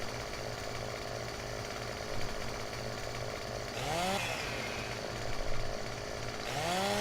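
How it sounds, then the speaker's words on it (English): Chainsaw cutting into a log in the Farming Simulator 17 video game, a steady buzzing drone with rising engine whines as the saw revs, alone without talk. "where your cursor is not where your chainsaw actually cuts"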